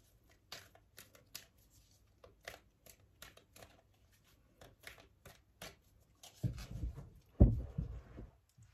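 A deck of tarot cards is cut and handled with a string of separate soft flicks and taps, quiet and close, followed by a denser rustle and a sharp knock near the end.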